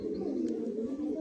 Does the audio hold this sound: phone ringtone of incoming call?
no